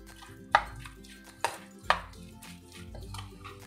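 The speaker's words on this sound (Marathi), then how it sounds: "आता आपण ही कोशिंबीर चांगली मिक्स करून घ्यायचे." A spoon knocks and scrapes against a bowl while guava salad (koshimbir) with chopped coriander is tossed, giving three distinct clinks among softer stirring sounds, close up and alone over a faint background hum.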